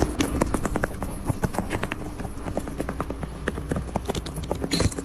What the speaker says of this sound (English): Wait, is that the sound it's making? Those heavy footsteps?